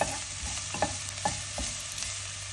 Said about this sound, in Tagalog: Nagigisa sa balbakwa kasi masarap ang luya sa balbakwa.